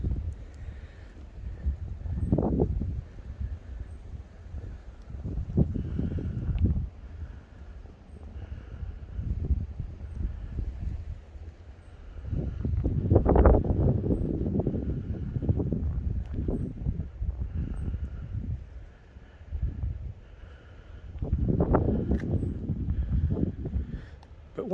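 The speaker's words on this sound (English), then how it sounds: "But of course it's quite windy today" Gusty wind buffets the microphone at an abandoned coastal fort, rising in several loud rumbling surges over a steady low roar, with no talking.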